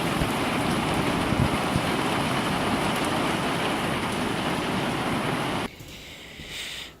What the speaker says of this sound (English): Watch it rain, rain, rain.